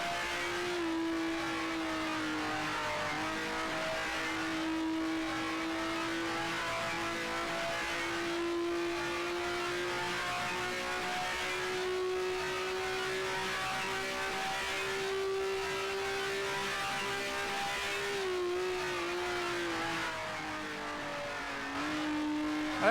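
A 1967 Eagle Formula One car in Grand Prix Legends holds a steady, loud engine drone at Indianapolis Motor Speedway, its pitch slowly rising and dipping as it runs through gears, continuous with no talk.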